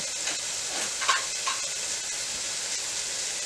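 Diced pork belly frying in a pan for pinakbet vegetable stew, a steady soft sizzle and hiss with a few faint clinks, no talking.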